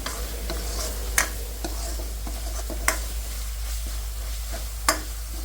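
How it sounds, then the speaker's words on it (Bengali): Meat fries in spiced oil, a continuous close sizzle under a low hum, with a spoon scraping and stirring the pan in occasional sharp knocks and slower strokes. "এই তো মাংসটা লাইরা নিচ্ছি"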